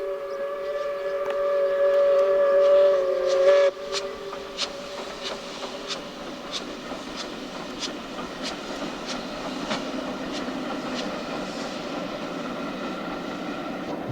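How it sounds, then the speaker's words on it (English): A steam train crosses the Glenfinnan Viaduct, heard from a distance as a steady rolling rumble with a brief whistle-like tone early on, then rhythmic clanking and chuffing that carries on to the end. "Just always cool to see a steam train in real life."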